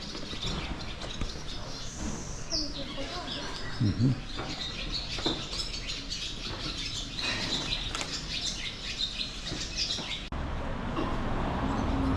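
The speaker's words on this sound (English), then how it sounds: "You can hear the birds chirping." Birds chirp and tweet in scattered bursts outdoors above Lake Como, Italy, mixed with rustling and some wing flutter, fairly close against a busy background.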